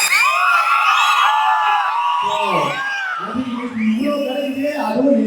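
An audience at a celebrity event with Harshath Khan and Nivetha, heard as loud, sustained crowd whooping and screaming cheers throughout, with shouting voices rising above the din and no break.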